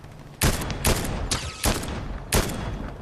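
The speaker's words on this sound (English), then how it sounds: "seems like you're shooting" Video game gunfire in a battle royale match: four loud, broadband bursts of rapid shots, each a sharp onset followed by a sustained crackling tail, spaced irregularly across a few seconds with no talk.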